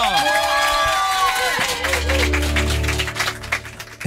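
Studio audience cheering and clapping for a singer who is appearing as a guest, with a bright crowd roar that rises and falls over a few seconds while music tones play underneath.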